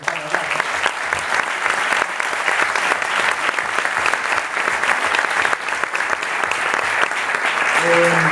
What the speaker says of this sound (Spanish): la verdad que un aplauso me parece para todos